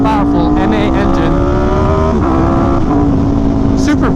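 An Aprilia RSV4 1100 Factory superbike's V4 engine runs loud and sustained, holding a steady rumbling tone with slight pitch dips, close and continuous throughout.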